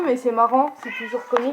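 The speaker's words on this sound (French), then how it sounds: "désolé pour le chat, il gueule." A cat yowls loudly indoors, its drawn-out cries overlapping with a person speaking French close by.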